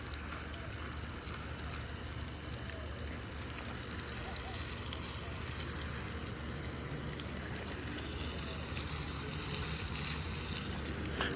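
Water sprays steadily from a garden hose fitted with a fertilizer attachment loaded with fish, kelp and root mix, a constant broadband hiss at close range without pause.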